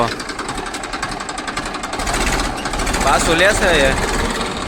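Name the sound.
tractor engine running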